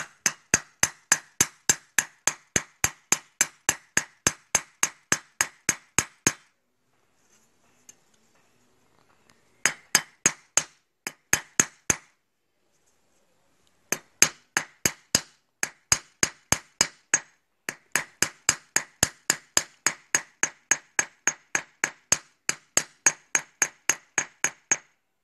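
Hammer peening a scythe blade, the pointed end of the hammer striking the edge against an iron anvil: rapid, steady runs of sharp metallic taps, close and alone, broken by short pauses and a few sparse strikes midway.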